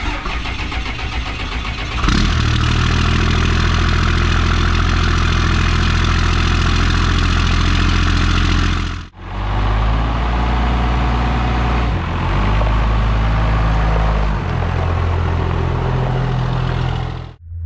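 A diesel truck engine set up for tractor pulling runs loud and steady, with a strong low drone that steps up in intensity and then holds, cutting out briefly a few times before resuming near and continuous.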